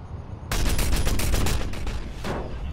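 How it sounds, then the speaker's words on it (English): Missile strike in a flying combat video game: a sudden loud burst of crackling, rapid explosive impacts lasting about two seconds, followed by a second, softer blast that trails off. "That was a missile."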